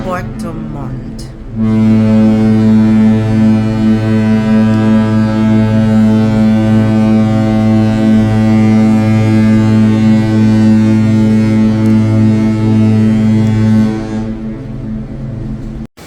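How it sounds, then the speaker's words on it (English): Holland America Oosterdam cruise ship sounding its deep horn on departure from Puerto Montt, one long, loud, sustained low blast lasting over ten seconds, with wind noise before and after. "And that's our ship honking goodbye"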